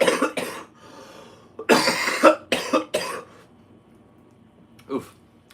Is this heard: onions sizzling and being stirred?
no